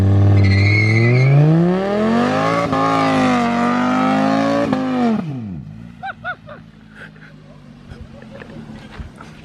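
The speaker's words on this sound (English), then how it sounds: "I can do a burnout" A PT GT car does a burnout: a loud, close engine roar climbs in pitch with tire squeal for about five seconds, then cuts back to an idle while people talk and exclaim over it.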